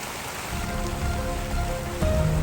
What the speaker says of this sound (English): I was going to do some dry washing, but with all this rain, that ain't going to happen.